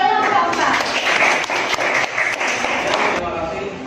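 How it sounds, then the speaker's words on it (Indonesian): An audience applauds group 4 at the close of a presentation, a dense, fairly loud burst of clapping lasting a few seconds before tapering off. "Beri tepuk tangan yang sangat meriah kepada kelompok 4."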